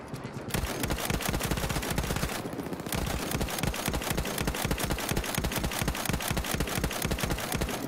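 Lewis gun machine gun in Battlefield 1 fires rapid, loud bursts of automatic gunfire with tightly spaced shots, pausing briefly once before the sustained rattling resumes.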